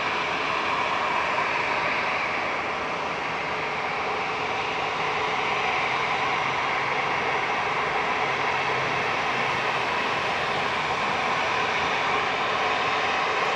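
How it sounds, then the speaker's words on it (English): An Ethiopian Airlines A350-900 departs Manchester Airport with a steady, loud, broadband jet engine roar sustained throughout, and no speech. "Ethiopian's A350-900 ET-AVB departing back to Addis Ababa via Marseille with flight 727"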